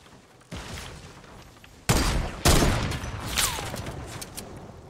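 Fortnite gunfire sounds in a few sharp bursts: a soft shot, then two louder cracks with ringing tails and scattered smaller pops, fairly close, with no talking.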